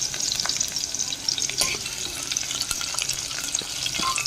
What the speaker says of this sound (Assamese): এইখিনি ভালদৰে ভজা যোৱালৈকে দিছোঁ।